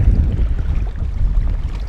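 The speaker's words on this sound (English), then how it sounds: "Super windy day, really hard to fish" Strong wind roars and buffets close by while fishing, a steady low rumble with gusty fluctuations and no voices.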